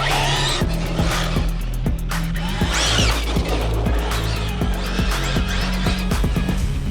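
A Typhon EXB RC car on Jetkos off-road tires runs at full throttle, its electric motor whining in repeated rising bursts with crunching, skittering impacts as it bounces over terrain.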